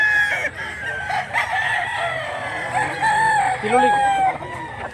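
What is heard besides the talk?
rooster crowing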